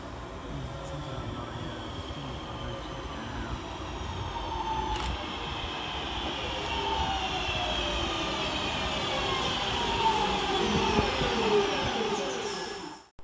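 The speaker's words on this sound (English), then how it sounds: "here comes our train, 323230, with the 1300 Northern service" Northern passenger train 323230 rolls slowly into Rainhill station, its steady rumble and squealing wheels building then easing as it comes to a halt.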